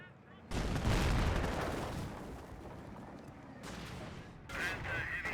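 Gunfire and shelling erupt in a Company of Heroes battle, a dense loud barrage that fades back, then returns in further bursts, with a game voice briefly calling out.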